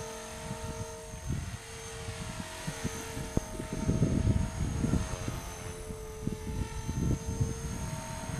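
A Blade 400 RC helicopter, rebuilt from a mix of parts, flies with a steady high rotor whine over a buzzing, fluctuating drone that swells louder partway through.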